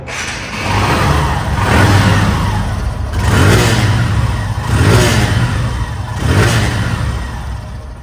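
A 2024 motorcycle in showroom condition revs loudly and close, its engine swelling and easing in four or five repeated throttle blips over a steady running rumble.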